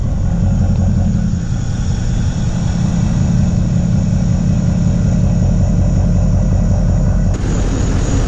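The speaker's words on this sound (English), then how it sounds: "So we're gonna do a cold start on the Duramax really late at night" Duramax diesel truck engine running after a cold start late at night, a loud, steady low rumble with a dense diesel clatter that continues unbroken, close by and without voices.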